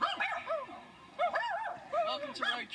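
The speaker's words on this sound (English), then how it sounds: "Oh, there's a dog. There's dogs." Dogs barking and yipping in a few quick bursts, fairly close and clear, with whiny, high-pitched tones between short pauses.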